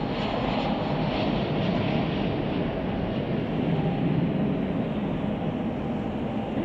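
A Southwest airliner from DFW roars steadily at Chicago O'Hare, a broad continuous engine rumble heard from a moderate distance, alone and without talk.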